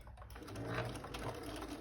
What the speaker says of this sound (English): I'm just going to stitch across the bottom probably about, I don't know, just over 1/4 inch